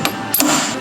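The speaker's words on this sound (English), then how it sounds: "5-pound slide hammer." A 5-pound slide hammer yanks on a glue tab stuck to a car body dent, giving two sharp, close metallic knocks in quick succession.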